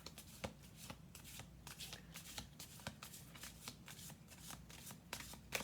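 Tarot cards riffle and slap together in a steady run of crisp shuffling bursts, close to the mic and moderately quiet, with no talking over it.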